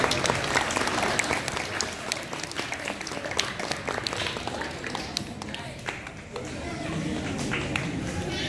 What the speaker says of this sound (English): Let's give a round of applause to our third graders.